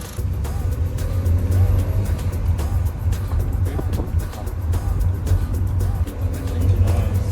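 An old BMW's engine runs while the car is driven, a steady low rumble with road and wind noise that stays loud and constant from inside the cabin, and a voice speaks faintly over it at times.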